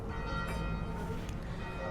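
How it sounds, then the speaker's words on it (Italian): Church bells ring in the rainy lakeside town of Desenzano del Garda, Italy, a dense, steady peal of overlapping tones with no pause across the moment. "qua le campane che vanno"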